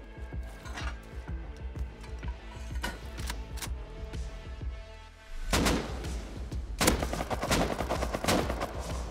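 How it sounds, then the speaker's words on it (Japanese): MP5 gunfire in the video game Rust, rapid bursts of shots cracking in quick rhythmic runs, growing denser and louder in the second half like a firefight breaking out. "MP5 撃ってきた。"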